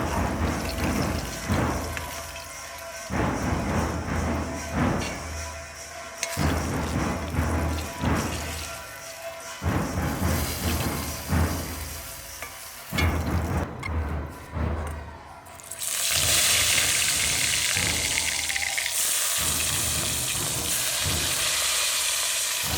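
Eggplant slices fry in a pan for a coconut-eggplant dish with a steady hissing sizzle and bursts of spattering. Partway through, the sizzle swells into a louder, brighter continuous hiss.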